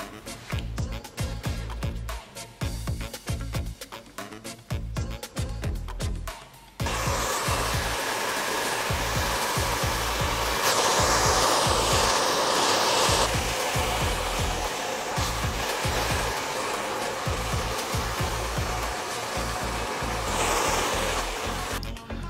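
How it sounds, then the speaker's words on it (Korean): A hair dryer roars steadily at close range, its loud whooshing airflow shifting slightly in pitch as it moves, with a quieter stretch at the start. "저는 지금 오로지 드라이기만 이용을 해서 머리를 말렸습니다"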